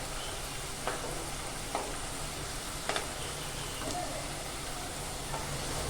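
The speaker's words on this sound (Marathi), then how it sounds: "आता आपण ना कटलेट परतून घेऊया एक बाजूने छान असे खरपूस भाजले" Potato fasting cutlets shallow-frying in a pan, a soft continuous sizzle with a few light taps from turning, faint and steady.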